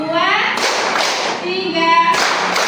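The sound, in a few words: group clapping hands in counting exercise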